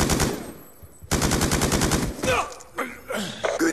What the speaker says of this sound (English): it's really, really rapid fire sniping right there